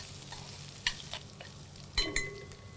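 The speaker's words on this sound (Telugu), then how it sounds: "ఇది గార్లిక్ ఇంకల్లా మంచిగా వేగాలండి" Ginger and garlic fry in ghee for Sultani dal, a soft low sizzle broken by a few light stirs and clinks of a spoon against the pan, no voices.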